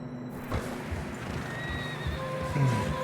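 In the video game Red Dead Redemption 2, a horse whinnies loudly over clopping hooves on a narrow, snowy trail, with a steady outdoor wash in the background.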